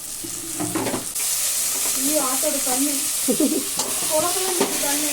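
Mutton head meat and tomatoes going into hot oil, sizzling steadily with a few stirring knocks while a person talks over it.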